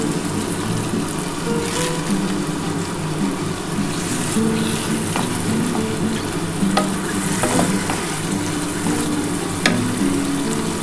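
Chicken stock poured into a spice paste frying in a pan for chicken bharta, giving a steady loud sizzle with occasional stirring scrapes and bubbling, no voices.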